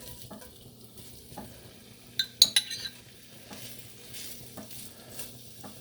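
Kielbasa stirred in hot ghee inside a Lodge enameled cast iron pot: a faint low sizzle with a short burst of spoon scrapes and knocks near the middle, then quieter stirring.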